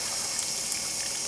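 Tap water pours out in a steady, hissing rush that continues unbroken through a brief moment, close and moderately loud.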